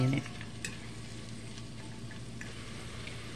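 Onions sautéing in a pan while cooking cowboy charro beans, a soft steady sizzle with faint stirring scrapes and a small clatter at the start, no voices.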